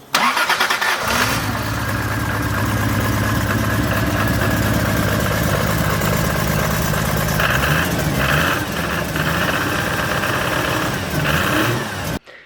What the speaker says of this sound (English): my Supra Turbo is now making this noise